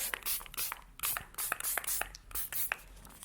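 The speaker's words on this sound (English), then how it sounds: "I'm just going to just spray around just to make sure there's no excess water hiding underneath" A spray bottle mists water onto wet strength tissue paper, a run of about nine quick hissing bursts in an uneven rhythm, close and fairly loud, with no talking.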